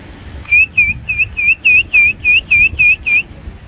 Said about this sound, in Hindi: सीटी दे रहे हैं कबूतरों को।